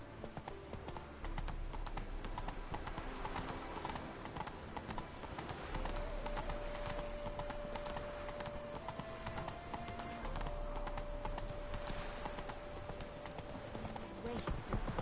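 In The Witcher 3, the horse Roach gallops with a continuous quick clip-clop of hooves under game music and a steady tone. Voices are heard faintly in the background.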